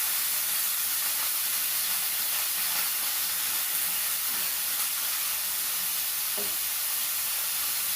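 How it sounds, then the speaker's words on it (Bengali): Onions frying in a pan produce a constant, fairly loud hiss and sizzle that stays even from start to finish, with a faint clink near the end and no talking. "পেঁয়াজটা একটু ভেজে নেব।"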